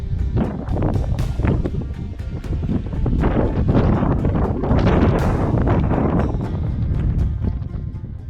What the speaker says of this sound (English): It was windy and stormy clouds were building up.